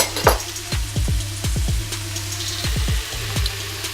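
Garlic sizzles as it cooks in a pan, a steady frying hiss broken by repeated sharp clinks and scrapes of a utensil against the cookware.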